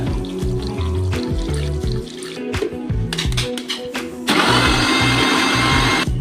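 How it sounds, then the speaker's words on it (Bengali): An electric mixer grinder whirs steadily as it blends mango juice with sugar, its tone shifting partway through before it runs louder and brighter to the end, with no talking. "এবারে চলো তার মিক্সারে মিক্স করা যাক"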